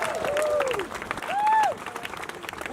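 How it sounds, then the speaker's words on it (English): Crowd at an outdoor health and housing rally applauding a speaker's introduction, a sustained patter of clapping under loud amplified speech. "Can we give a round of applause, please?"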